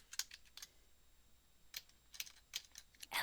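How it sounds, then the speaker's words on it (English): Scattered keystrokes on a computer keyboard tap in short irregular bursts, faint and close, with quiet gaps between them. "is you typing?"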